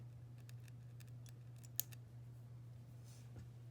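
Small mini snippers snip hook and loop fabric around drilled holes, giving a series of faint, crisp clicks spread evenly over a few seconds. A low steady hum runs underneath.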